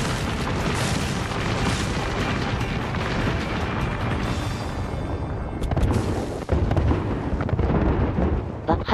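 A thrown ultimate ability exploding in a video game: a dense, sustained roar of rumbling booms and blasts that surges louder in sharp bursts toward the end, with no voices over it.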